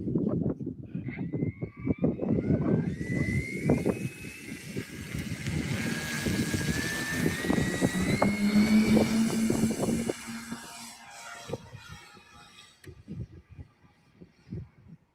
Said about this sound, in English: And Eric sure has some nice planes. Wide variety of planes